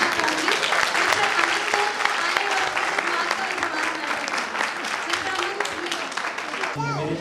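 A crowd at a Minority Day event in Pakistan applauds steadily and loudly, sustained clapping filling the room from start to finish with a voice faintly underneath.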